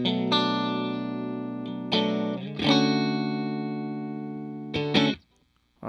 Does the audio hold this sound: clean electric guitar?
yes